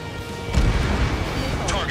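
Bombs exploding in the flight combat game Ace Combat 7, a deep rumbling blast that swells after a brief lead-in and holds as a sustained low roar, with faint radio chatter over it.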